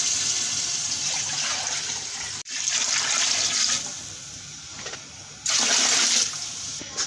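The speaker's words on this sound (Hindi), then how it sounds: "सो देखिए व्यूअर्स, मैंने पानी इसमें डाल दिया।" Water poured into a cooking pot for chana pulao, a steady rushing splash that runs loud for a few seconds, breaks off briefly, then returns in a second strong burst, with no talking over it.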